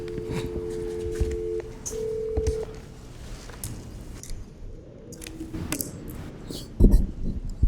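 Telephone dialing tones during a county board of supervisors meeting as a caller is connected: steady tones early on, then clicks, faint handling noise and a few louder knocks near the end.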